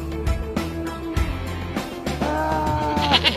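A goat bleats several times up close, loud wavering cries in quick succession, set over a low steady background hum.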